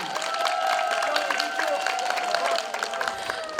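Audience clapping for a girl named Olena in a beaded embroidered shirt at a Trinity Green holiday gathering: steady, dense applause throughout, with voices and a sustained tone running underneath.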